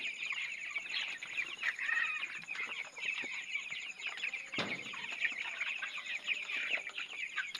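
Young broiler chicks, about 16 to 17 days old, on a poultry farm, a dense continuous chorus of high peeping and soft clucking from many birds, fairly faint, with one sharp knock partway through.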